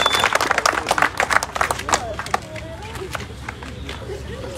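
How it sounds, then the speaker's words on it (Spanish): A burst of clapping from a small group at an outdoor road-paving groundbreaking ceremony in Marquelia, Guerrero, loud at first, then fading into chatter and murmuring voices. "un aplauso sobre todo para ustedes"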